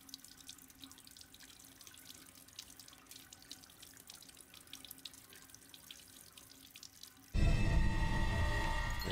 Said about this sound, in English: There's actually water.